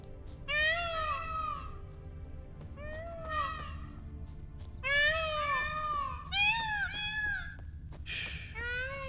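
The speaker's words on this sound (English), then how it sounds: "See that sound? It sounds like cats" Several cats in The Witcher 3: Blood and Wine meow back and forth in a string of clear, rising-and-falling calls, loud and close, over a steady low ambient hum.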